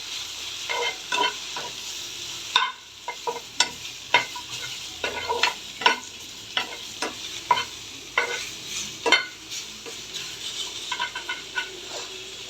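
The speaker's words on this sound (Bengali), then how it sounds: "তার সাথে ভেজে নিচ্ছি এই যে কয়েকটি পেঁয়াজের টুকরো" Sour leaves and a few onion pieces fry in a pan, a continuous crackling sizzle punctuated by frequent scraping and tapping stirs, close up and without speech.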